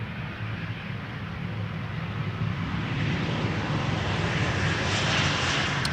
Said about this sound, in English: Nippon Cargo Airlines 7478 arriving from Anchorage.